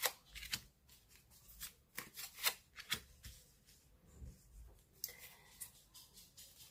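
Tarot cards are shuffled close by in quiet, uneven riffles and soft slaps, with no talk over them.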